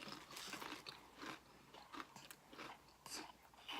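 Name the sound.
crunching a barbecue-flavoured snack chip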